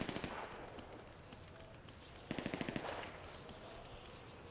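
Video game gunfire, a quick machine-gun burst of rapid cracks rising out of steady background noise, followed by faint scattered shots, a little distant.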